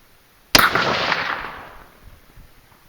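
A single sharp .308 rifle shot, a Compass firing a 125 grain bullet over Varget powder, bursts out loud and close, then leaves a long echo that fades over about two seconds outdoors.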